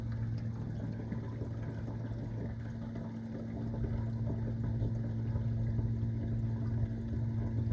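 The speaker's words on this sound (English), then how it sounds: "Yeah, it's draining good now." Water drains steadily from a kitchen sink, a continuous low gurgling rush with a hum beneath that slowly grows a little louder.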